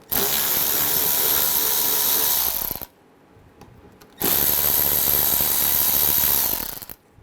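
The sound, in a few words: removing bolts with an 8mm socket on a BMW 535i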